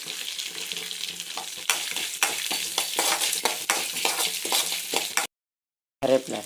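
Curry leaves and green chili sizzle in hot oil with chana dal and urad dal while a South Indian tempering is stirred, a steady crackling hiss broken by sharp spatters, then a short silence before the frying resumes.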